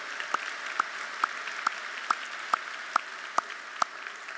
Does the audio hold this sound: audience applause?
yes